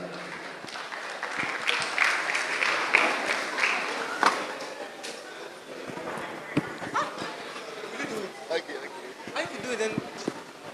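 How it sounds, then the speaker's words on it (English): Applause from the audience at a national robotics competition, a crowd clapping in dense bursts that swell and fade, thinning into scattered claps and shuffling noise toward the end. "A round of applause for Jonathan"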